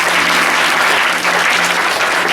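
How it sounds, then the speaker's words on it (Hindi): Church congregation applauding in praise, a dense, steady wash of many hands clapping together, loud and close, with no speech over it. "ताली बजाएंगे परमेश्वर की महिमा।"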